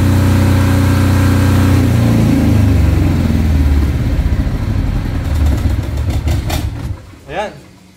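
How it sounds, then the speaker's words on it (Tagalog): A Philking 10 kVA automatic silent-type diesel generator runs with a loud, steady engine hum that gradually winds down and cuts out near the end, followed by a short fading rumble. "napaka-smooth, napakaganda ng tunog ng ating makina ng 10 kVA"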